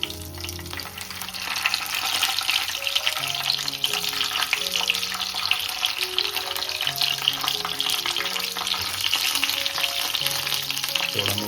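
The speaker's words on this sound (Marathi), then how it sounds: "चला आता आपण मिरच्या टाकू तेलामध्ये." Green chillies frying in hot oil with curry leaves in a pan, a steady dense sizzle running close and loud after a brief quieter start, with faint stirring and no talk.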